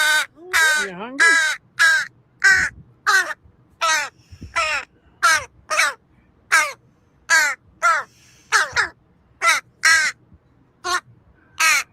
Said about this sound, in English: Milo the Crow. Very cool.